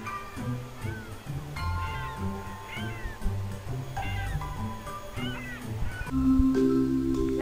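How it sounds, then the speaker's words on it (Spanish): A cartoon cat in the mobile bubble-shooter game Bubble Mania meows repeatedly in short rising calls over a cheerful looping game soundtrack. "ese gato, ese tierno gato"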